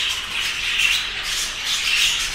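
A crowd of budgerigars squawks and chatters nonstop, with a dense wash of overlapping shrill calls from many birds kept together, close and fairly loud.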